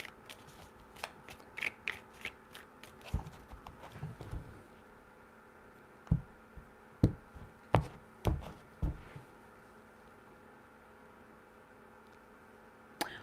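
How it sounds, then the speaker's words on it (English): Tarot cards are shuffled by hand in a quiet room, a string of crisp riffling snaps and taps, sparse at first, then a tighter flurry of sharp riffs before silence. "Three shuffles."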